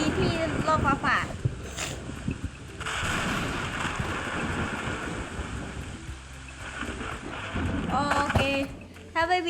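Rumbling thunder from a lightning strike in a Roblox game, a broad roaring wash that swells at the start and again near the end, with players talking over it.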